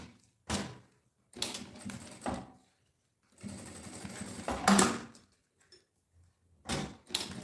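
Sewing machine stitching backpack straps in several short bursts separated by pauses, each run a close, steady mechanical whir of the needle.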